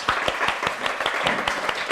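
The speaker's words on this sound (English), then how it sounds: "Well done, round of applause." At the end of a hot yoga class, a small group gives a round of applause, a brief burst of quick, close, uneven clapping with a few overlapping claps.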